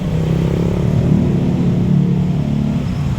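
Road traffic jammed on EDSA during a rally, a loud, steady rumble of idling and creeping car and motorcycle engines close by, with no break in the low drone.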